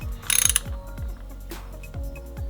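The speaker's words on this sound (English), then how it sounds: "I'll just put all these bolts in and okay, so let's snug this cover down" A ratchet clicks in short, quick bursts of pawl ticks while snugging down the bolts of a see-through clutch cover on a CBR/VFR hybrid sportbike, close and fairly quiet.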